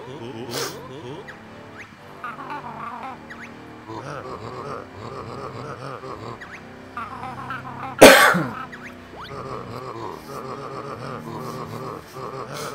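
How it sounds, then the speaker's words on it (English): A single loud, sharp cough from a person bursts out partway through, standing out clearly over the continuous music and effects of the Banjo-Tooie video game. "sorry for coughing"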